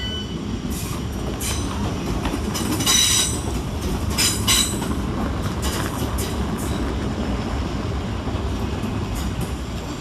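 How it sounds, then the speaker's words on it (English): A Southeastern class 375 electric train pulls away from London Waterloo East station, its steady rolling rumble joined by repeated high wheel squeals and rail clicks, close and loud. "departed in the opposite direction is 375611, working the 1232 Southeastern service from London Charing Cross"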